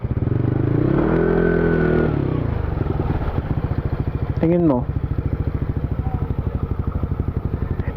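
A motorcycle engine runs close by on a ride through Dinadiawan, Isabela, rumbling steadily with a rev early on and a repeated putter later, while people talk over it.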